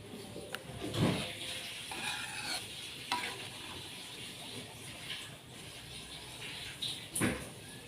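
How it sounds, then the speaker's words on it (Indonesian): A pot of Acehnese gulai pliek u curry with coconut milk bubbles and sizzles steadily close by, with occasional stirring scrapes and clatters breaking through the continuous hiss. "Ini sudah mendidih."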